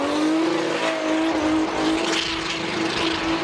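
A drift car at Formula Drift Japan holds full throttle, its engine roaring in a sustained high rev with a shifting pitch and tire squeal mixed into the loud, close blare.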